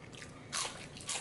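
Crunchy air-fried potato fries from a GForce electric air fryer are bitten twice: two short, bright crunches close to the mic, with quieter chewing between them.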